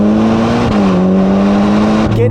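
A 2022 Ferrari Portofino M engine revs loud and close, its steady tone rising and dropping with the rev changes and a shift near the end, with no other sound over it.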